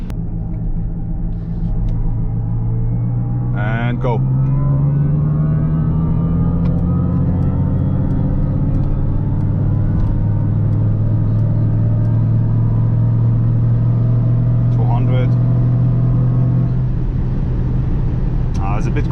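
Inside a Mercedes EQS53 AMG electric car cruising the Autobahn, a synthetic AMG drive sound hums as a steady low droning tone that rises and falls with speed, sustained throughout with a person speaking briefly over it.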